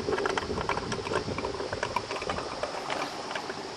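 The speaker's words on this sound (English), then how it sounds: "listen to my Toyota gurgling." A hot Toyota engine gurgles after mud driving, quiet bubbling and gurgling churning continuously, a soft, irregular liquid burble heard close up with nobody talking.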